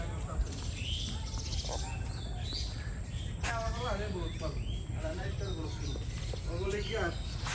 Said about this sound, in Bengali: মানে শহরে তো পাখির শব্দ শোনাই যায় না, এই জায়গায় অনেক সুন্দর